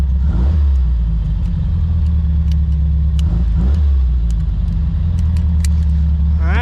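A 1957 Porsche 356 Speedster drives a winding Hawaiian road leaving Hana, its engine giving a steady low rumble with small rises and dips in revs, amid road and wind noise.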